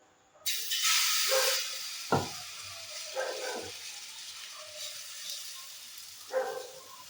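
Mango patishapta batter poured into a ghee-coated pan sets off a loud sudden hiss that tapers to a quieter steady sizzle, with a few nearby clatters and utensil knocks.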